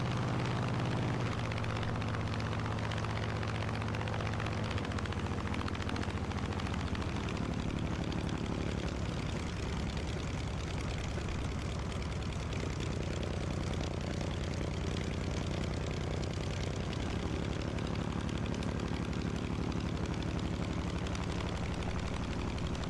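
A warbird aircraft engine in Microsoft Flight Simulator, a dense, constant roar with a steady low drone during landing, loud and unbroken throughout with no voices.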